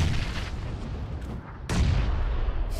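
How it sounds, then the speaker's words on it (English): Gunfire in the Apex Legends video game, loud and continuous with dense booming shots, a brief dip and then a sharper, heavier burst partway through, no talk. "We're getting shot from in our back too."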